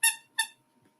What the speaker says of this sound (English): So, squeaky toys in the background.